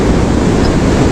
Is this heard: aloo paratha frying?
no